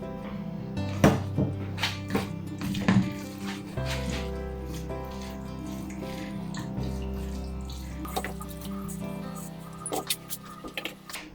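Water runs and splashes steadily into a pressure cooker while keema cooks, with clanks and knocks of utensils around it at close range.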